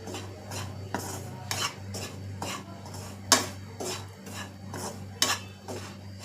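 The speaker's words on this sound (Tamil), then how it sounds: "இப்போது கை விடாமல் இதை வறுத்துக்கிட்டு இருக்கலாம்." Flour being roasted in a pan under continuous stirring: a utensil scrapes and clinks against the metal in repeated strokes, with a few sharper knocks over a low steady hum, no voices.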